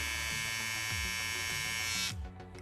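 A steady, close electric head shaver hum with a bright buzzing whine, running continuously, dipping slightly in pitch as it presses against something near the end.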